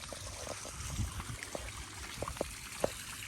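A small pond waterfall spills into a creek, making a steady low trickle and splash with soft gurgles and a few brief drips, close by and fairly quiet, with no talking.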